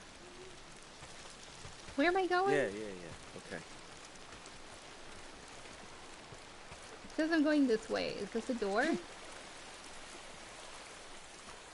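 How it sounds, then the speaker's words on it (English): Steady rainfall in the video game Days Gone, a constant hiss of drops pattering on surfaces throughout, with two brief stretches of talk over it. "Oh man, directly in the rain. I love the sound of the rain."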